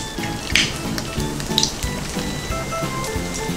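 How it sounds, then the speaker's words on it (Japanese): Pork pieces frying in plenty of medium-hot oil for sweet and sour pork give a soft, steady sizzle with a few brief crackling bursts, heard under continuous background music. "お肉炒めて取り出します"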